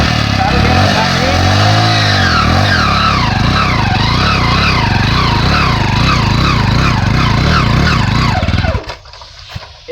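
An old-model Hero HF Deluxe motorcycle engine runs hard in fourth gear during a climbing power test, a loud, strained, wavering roar throughout that abruptly cuts out near the end as the engine stalls.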